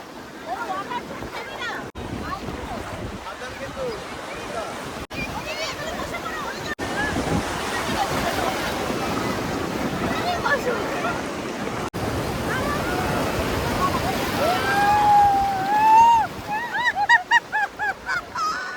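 Sea waves wash onto a crowded beach at Puri, a steady broadband surf roar throughout, with voices, shouts and what sound like whistles or honks rising toward the end.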